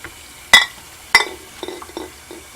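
Glass canning jars being washed clink and knock sharply a couple of times, followed by softer clatters and light water sounds, close up with no talking.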